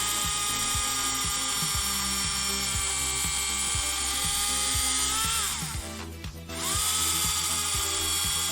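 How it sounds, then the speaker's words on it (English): A low-torque rotary tool grinding at high RPM, a steady piercing high whine with repeated rhythmic ticking underneath, briefly dipping and slowing as pressure is eased before spinning back up. "It's not very high torque, so I kind of gotta let the RPMs do most of the work."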